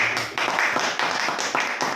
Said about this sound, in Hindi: एक बार ताली